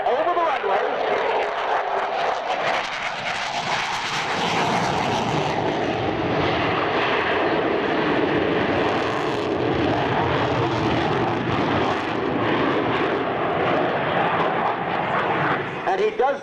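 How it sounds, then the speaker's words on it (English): A CF-18 fighter jet at an airshow in Red Deer makes a low pass over the runway, a loud, sustained engine roar that builds and sweeps past, with an announcer talking over it. "Now, Captain Mirza is flying along over the runway."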